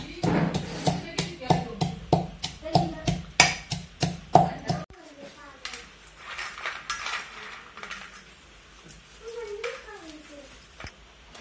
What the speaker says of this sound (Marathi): तोर मसाला बारीक करून घ्यायचा खलबत्त्यामध्ये